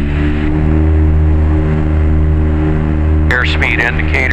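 A Tecnam P2006T twin-engine light airplane runs at full power on its takeoff roll, a loud steady droning engine hum with strong tonal harmonics, with a voice speaking over it near the end.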